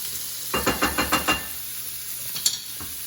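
Food is stirred in a hot frying pan, giving a burst of five or six rhythmic scraping strokes over a steady sizzle, followed by a quieter sizzle and a single clink.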